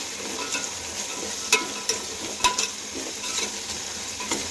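Beans and carrots stir-fry for fried rice in a hot pan, a continuous close sizzle broken by sharp scraping and tapping strokes of a spatula at irregular intervals.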